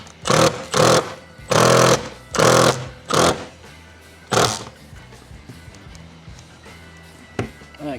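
A power driver fires big self-tapping bolts into wood behind a garage wall in loud, rattling hammering bursts, several in quick succession and then a final shorter burst, with a voice speaking briefly between them.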